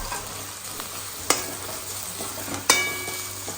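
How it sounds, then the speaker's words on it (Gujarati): Fresh green turmeric frying in hot oil, a steady close sizzle with two sharp stirring clinks of a utensil against the pan, no talk. "તો મિત્રો આપણું તેલ ગરમ થઈ ગયું એટલે આપણે અંદર લીલી હળદર એડ કરી દીધી"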